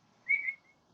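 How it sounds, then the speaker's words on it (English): A single light, high whistle from a person, a brief steady tone lasting about a third of a second, heard alone against quiet background. "That was a light whistle."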